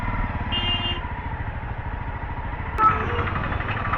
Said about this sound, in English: Right now I am riding the bike in the city road conditions and the bike is performing quite well